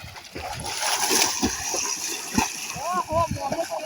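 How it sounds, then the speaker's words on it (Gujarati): People bathing in a river splash the water, and the choppy splashes and sloshes come up close in uneven bursts. Voices talk and call out over the water throughout. "મોમો તો પાણી ઉડાડશી લાગી દીધો"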